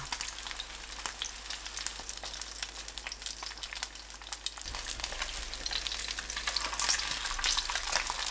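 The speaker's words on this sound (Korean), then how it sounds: "고등어 올려서 중약불로 노릇하게 구워내세요" Mackerel fries in oil in a pan over medium-low heat, giving a steady, even sizzle with fine crackles that swells slightly toward the end, with no voices.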